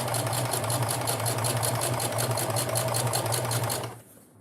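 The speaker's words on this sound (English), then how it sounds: "Let's backstitch that part." Sewing machine backstitching a seam: a fast, even, steady mechanical whirr of rapid needle strokes, close and loud, running alone before cutting off abruptly near the end.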